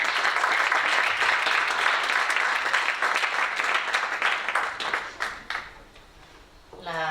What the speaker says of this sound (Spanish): le damos la bienvenida con un aplauso a la doctora